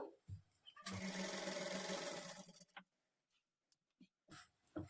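Sewing machine stitching a fall onto a saree, a close, fast whirring run of about two seconds, followed by quiet gaps with soft clicks and handling noises.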